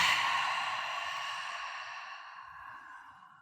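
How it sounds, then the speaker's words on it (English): An open-mouth exhale during a lower back relief breathing exercise: one long, soft, breathy rush of air that starts fairly strong and fades steadily over a few seconds, heard alone and close. "Open mouth exhale."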